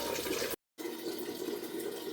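Running water fills a pot for cooking rice, a steady close rushing stream that cuts off for a moment and then resumes, with no voices.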